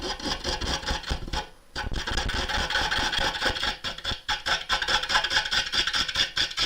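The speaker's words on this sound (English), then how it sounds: "You can see how much the gouge is moving." A woodturning gouge cutting a gnarly wood crotch spinning on a lathe, giving a loud, continuous rough scraping and rasping close by, with one brief pause where the tool lifts off.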